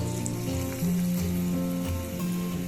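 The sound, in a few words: banana bajji fritters frying in hot oil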